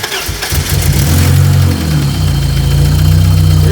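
A motor with an empty fuel filter cranks briefly, then catches and settles into a steady, loud, close idle with a low throbbing rumble that runs continuously to the end.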